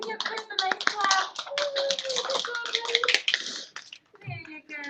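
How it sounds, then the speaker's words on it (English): Children at a school awards assembly clap in a loose burst of applause, with young voices chattering over it and the clapping fading after a few seconds. "Everyone give Cruz a nice clap."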